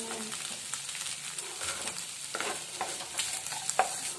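Potatoes fry in a pan for a snack as they are stirred, a dense hissing sizzle with soft scraping strokes and a few clicks, close and steady.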